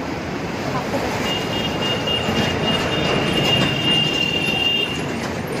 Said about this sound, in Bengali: ট্রাম আসছে, ট্রামে যাবো